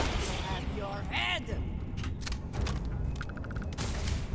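Enemies and turrets fire on the player in the video game Starfield, with bursts of gunfire and booming impacts mixed into a dense, noisy game soundscape while someone talks over it.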